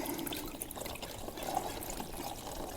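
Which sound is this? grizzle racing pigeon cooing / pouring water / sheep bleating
pouring water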